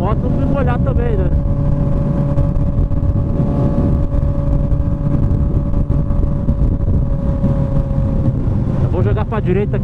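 Honda CB 1000R motorcycle with an aftermarket exhaust, engine droning loud and close in a steady run with rising revs at the start and end, wind buffeting the microphone throughout.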